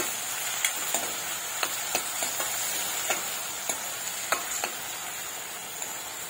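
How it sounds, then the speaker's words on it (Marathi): Chopped medium tomato sautés in oil, producing a continuous sizzle with regular sharp taps and scrapes from a stirring spoon against the pan, close and steady. "मिक्स करून असं परतवून घेऊया तेलामध्ये"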